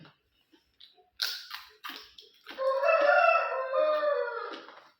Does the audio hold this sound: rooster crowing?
yes